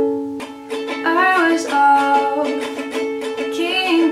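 A ukulele is strummed in a down, down, up, up, down, up pattern, giving bright ringing chords with quick rhythmic strokes, close and clear with no talking.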